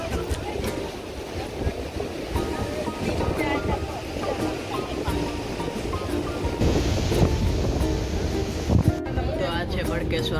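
Sea waves wash and surge steadily around Bhadkeshwar Mahadev temple, set in the sea at Dwarka, forming a continuous broad roar with wind buffeting the microphone and faint voices mixed in.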